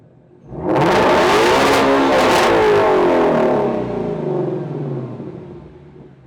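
A Ford Shelby GT350 engine with resonator delete and X-pipe revs hard from low to 8,000 RPM, a high screaming pitch, holding the roar before it slowly winds back down. It is loud and close.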